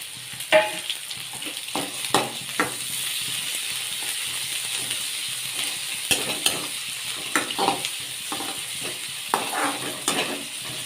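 Tomatoes and green chillies fry with softened onions in a pan, a steady close sizzle broken by repeated clinks and scrapes of a stirring spoon.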